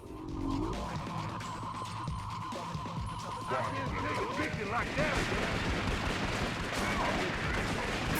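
Gunfire from the video game Twin Caliber, dense bursts of shots with explosions and skidding mixed in under a steady loud game soundtrack, with a voice talking over part of it.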